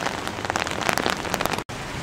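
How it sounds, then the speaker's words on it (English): Steady rain patters on surfaces during a winter walk along Soquel Creek near Capitola Village, a loud dense hiss of drops that continues without break apart from a split-second dropout. "How appropriate that I should be filming it on a rainy day."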